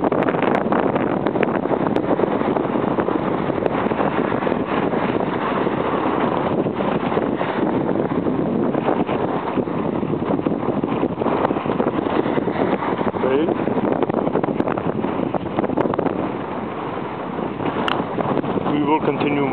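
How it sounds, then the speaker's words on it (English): Strong breeze buffets the microphone on a hazy, hot summer day along a waterfront boulevard, a loud, continuous rumbling roar that barely lets up for the whole stretch. "As you can probably hear, it's a little breezy over here"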